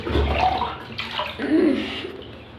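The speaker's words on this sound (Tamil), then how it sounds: "இப்போதைக்கு நம்ம இந்த இரும்பு இதிலெல்லாம் தண்ணி மொண்டிட்டு வர போகிறோம்" Water splashes and sloshes as iron vessels are dipped and scooped, two or three bursts of pouring and swirling, close by.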